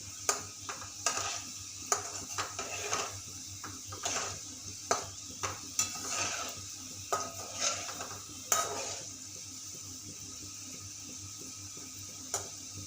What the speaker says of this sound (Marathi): छान असा गोल्डन कलर येतपर्यंत आपण छान असे मस्त खरपूस तळून